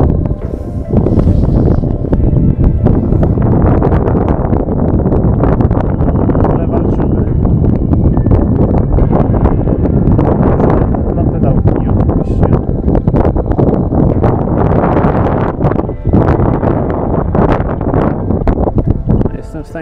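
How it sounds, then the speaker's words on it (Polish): Strong wind roars and buffets the microphone in loud, continuous gusts, a heavy rumbling rush with no letup. "ale ten wiatr jest niesamowity"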